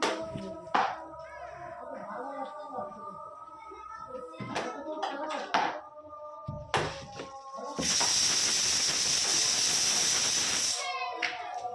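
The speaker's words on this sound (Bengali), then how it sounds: "এর উপরে ডিমটা দিয়ে দেব।" Beaten egg mixed with chopped onion, turmeric and salt goes into hot oil in a kadai, bursting into a loud sizzle of about three seconds after a stretch of voices and kitchen sounds.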